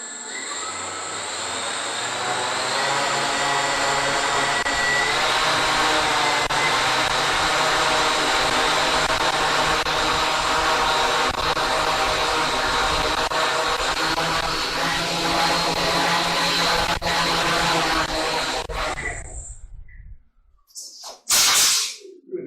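An electric motor, its timing advanced to 22 degrees, runs at full power with a loud, steady, high whine for nearly twenty seconds before cutting out abruptly, followed by a brief burst of noise.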